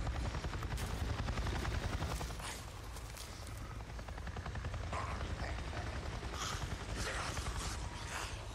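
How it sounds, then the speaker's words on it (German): Continuous thumping drone of a helicopter's rotor in the game Days Gone, fairly close, with scattered bursts of gunfire over it. "hab grad nen Heli gesehen"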